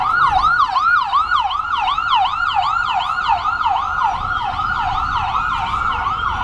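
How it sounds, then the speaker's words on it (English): An ambulance siren wails loudly through a New York City street, its repeating rising-and-falling yelp cycling steadily and close by, with faint road traffic underneath and no talking. "This noise is... it's irritating, but it's an ambulance."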